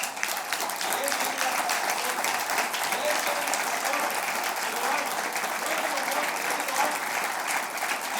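A church congregation applauding during a sermon, a dense, steady wash of many hands clapping that fills the room throughout without a break.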